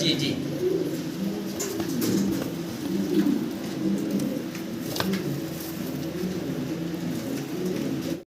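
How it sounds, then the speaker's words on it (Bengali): A pair of big fancy pigeons coos in a loft, repeated low, soft calls close by, with people talking now and then alongside. "বিগ সাইজের একজোড়া শৌখিন কবুতর"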